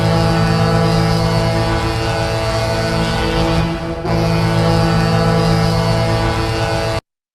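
A deep, sustained ship-style foghorn serves as a hockey goal horn imitating a Seattle ferry horn, blaring loud and steady for about seven seconds with a brief dip midway before cutting off.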